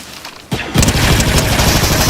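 A submachine gun in Fortnite bursts into loud, rapid continuous fire after a quieter start, sustained and close, mixed with other game action.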